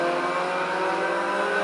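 A race car engine in Forza Motorsport 3 holding a steady, loud, high-revving drone, close and constant with no talk over it.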